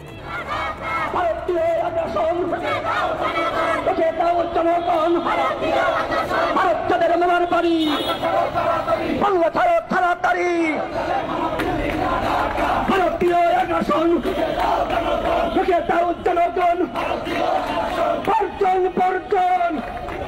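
A loud crowd at a protest chants slogans in unison, rhythmic shouted phrases repeating over a dense roar of voices for the whole stretch.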